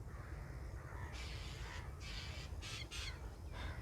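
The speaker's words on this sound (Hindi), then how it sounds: "सुबह सुबह परिंदे चहक रहे हैं।" Morning birds in a village, mainly crows cawing in a series of harsh, repeated calls at middle distance over a steady low rumble.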